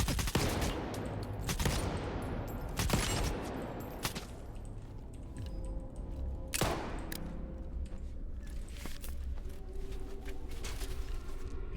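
Bursts of gunfire in the shooter S.T.A.L.K.E.R. 2: Heart of Chornobyl: several sharp loud shots and short volleys over the first seven seconds, then quieter scattered reports and background game ambience.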